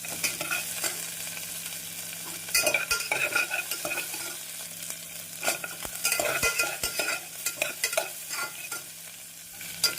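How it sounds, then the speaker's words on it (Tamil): Sliced onions, curry leaves and garlic sauté in a pan for a drumstick tamarind kuzhambu, a steady close sizzle broken by scraping stirs and clinks of the spatula against the pan. "வெங்காயம் இந்த அளவு வதங்கவும் நாம் கறிவேப்பிலை, பூண்டை சேர்த்து விடலாம்"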